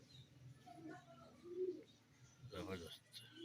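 A female teddy pigeon coos softly in short murmuring calls, with faint chirps and a brief flutter nearby, quiet and close, under low background voices.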